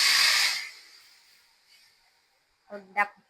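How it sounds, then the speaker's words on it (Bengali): Hot tempering poured into lentil dal gives a loud, bright sizzle that dies away within a second into a faint hiss, and a voice speaks briefly near the end. "ডালটা ফোড়ন দিয়ে দিলাম এবার ফুটিয়ে নামিয়ে রাখবো"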